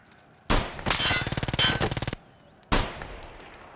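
Automatic gunfire from a gun in Tarkov Arena rips out in a loud close burst of rapid rhythmic shots, pauses briefly, then a second sharp burst follows with a ringing tail.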